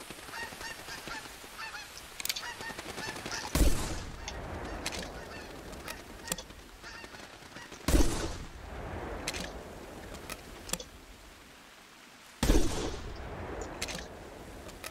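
Shotguns fire three times during a goose hunt, with loud sharp blasts at roughly four-second gaps. Geese honk steadily between and after the shots, with no talking.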